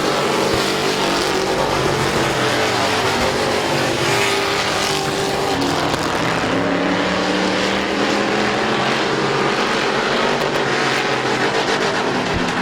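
Street stock race cars roar around Midvale Speedway during a heat race, with loud, continuous engine drone and shifting pitches as cars pass. Dense mechanical noise fills the whole stretch without pause.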